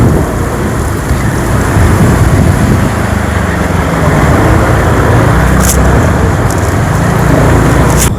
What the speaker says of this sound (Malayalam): നല്ല മഴ പെയ്തുകൊണ്ടുണ്ട്.